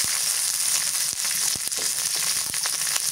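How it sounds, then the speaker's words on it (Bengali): Fresh green chilies, garlic and onion fry in hot oil in a pan where fish has just been fried, a steady loud close sizzle with small crackles and pops throughout. "মাছটা ভাজি হয়ে গেছে, এর মধ্যে আমি হচ্ছে মরিচ দিয়ে দিই, কাঁচা মরিচ ভেজে নেবো, আর রসুন পেঁয়াজ"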